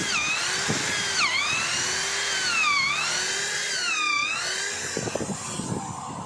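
A DCK KZJ16 impact drill whines loudly, its pitch repeatedly dipping and rising as it bites into material, with a few knocks and rattles near the end.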